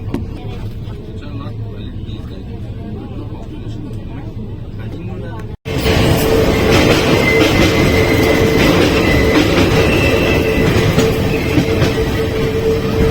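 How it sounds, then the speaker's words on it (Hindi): Heard from inside a moving Jan Shatabdi Express, the cabin rumble jumps suddenly to a loud, dense roar as the Mussoorie Express rushes past on the next track and keeps going for several seconds, with a voice talking over it. "और इधर अपनी मसूरी एक्सप्रेस के साथ क्रॉसिंग होती हुई"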